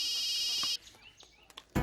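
A telephone rings on an outgoing call: a loud, steady electronic ringing tone that cuts off, followed by quiet handset clicks and a short burst of noise.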